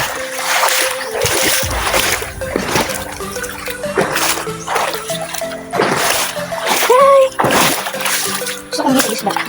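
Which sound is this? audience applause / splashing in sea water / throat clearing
splashing in sea water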